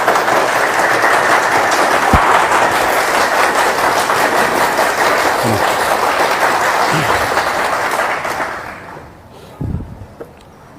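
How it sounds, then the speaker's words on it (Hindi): Dense, sustained applause from a crowd at a Bihar 2020 election digital rally, steady and loud before tapering off near the end. "आप लोगों से आग्रह है कि जोरदार तालियों के साथ उनका स्वागत करें।"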